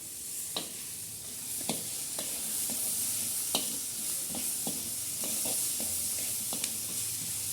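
A vegetable curry with potatoes sizzling steadily in a pan on a clay stove, with irregular sharp clinks and scrapes of a stirring spoon spread through the steady hiss, close and quiet.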